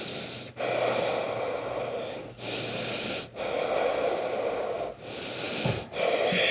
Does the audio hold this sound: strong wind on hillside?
no